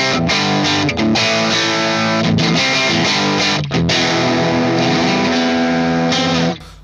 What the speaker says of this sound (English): I'm going to use my Marshall Origin 50 head with my Squire Classic Vibe Telecaster.